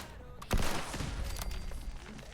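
Sustained automatic fire from a gunslinger character in a shooter video game, starting with a sharp loud onset and continuing as a dense, rapid rattle of shots for about two seconds.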